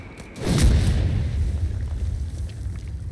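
A deep, heavy boom from an artillery barrage in Company of Heroes 3 rolls into a long low rumble, loud and close, with faint crackles trailing off and no voices.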